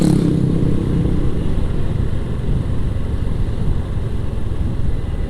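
A Honda Karisma motorcycle engine drones steadily while riding on a long-distance tour, with loud, continuous low-pitched engine noise and wind and no pauses.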